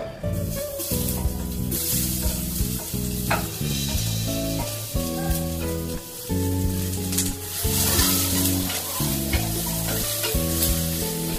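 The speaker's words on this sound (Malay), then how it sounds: "Kita tumis dulu." Garlic and other ingredients sauté in a pan, sizzling and hissing continuously up close while being stirred, with music playing loudly over the cooking the whole time.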